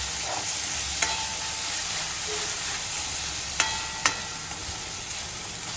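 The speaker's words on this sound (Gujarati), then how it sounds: "હવે આપણે આમાં ટમેટા ઉમેરી દઈશું. આને પણ થોડીક વાર ચડવા દઈશું." Chopped tomatoes sizzling in a pan for vegetable masala Maggi, a steady loud frying hiss with a few sharp spoon taps against the pan.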